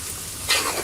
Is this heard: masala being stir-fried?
yes